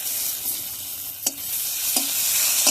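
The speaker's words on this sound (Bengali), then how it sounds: "এখন এগুলো সব একসঙ্গে ভালোভাবে ভেজে নেব" Chopped onion, a bay leaf, cardamom, cinnamon and garlic paste fry in hot oil, a constant bright sizzle with three brief metallic scrapes of a spatula stirring the pan.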